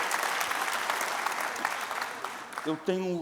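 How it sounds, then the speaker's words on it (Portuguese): Conference audience applauding after a talk at an education event, a steady wash of clapping that fades near the end as a voice begins speaking. "Agora você pode aplaudir o Senhor."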